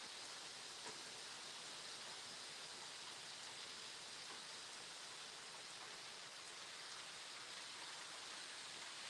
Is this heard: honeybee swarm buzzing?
no